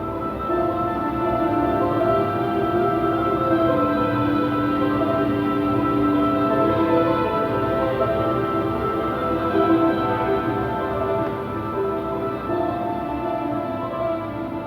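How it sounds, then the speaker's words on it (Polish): Inside a 1968 modernist pavilion on Warsaw's Eastern Wall, a steady, layered droning hum with sustained tones holds at an even loudness throughout, with no speech. "bo środek pawilonu brzmi właśnie tak."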